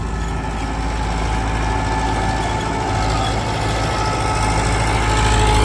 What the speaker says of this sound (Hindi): सोलह साल बाद भी देखो ट्रैक्टर की आवाज देखो कितनी सेट है।